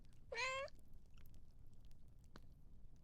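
One short, clear cat meow from the woodland fantasy RPG Songs of Glimmerwick sounds near the start, followed by faint soft clicks over a quiet low background.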